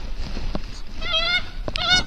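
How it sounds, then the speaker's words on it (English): Geese give two clear, nasal honks close by over a wind-buffeted outdoor background, the calls spaced about half a second apart. "Hello, geese."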